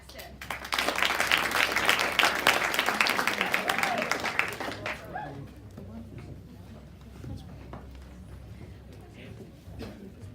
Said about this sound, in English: please give a round of applause for Ryan Sexton